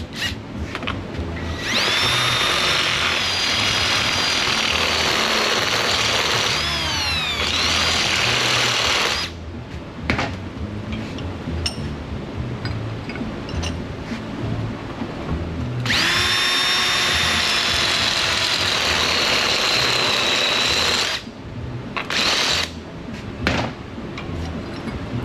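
Power drill reaming out a bolt hole in a vehicle spring plate, two long loud whining runs of several seconds each with pauses and clatter between, close by and without talk.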